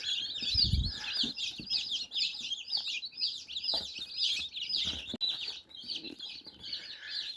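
Newly hatched incubator chicks chirp and peep constantly in a dense, high-pitched chorus, close and lively, with a few soft low bumps and rustles underneath.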